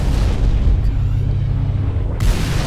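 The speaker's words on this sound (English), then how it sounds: "Are we just getting, like, mortared" Heavy mortar-like explosions in a video game, a dense continuous low rumble of booms that stays loud throughout, with a brief crack near the end and no talk over it.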